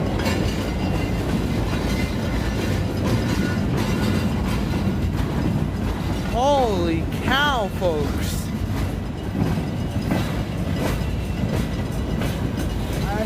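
A long freight train rolls steadily past at Iron Mountain with continuous rumbling and clattering wheels, and screeching wheel squeals rise midway. Someone speaks briefly over the noise.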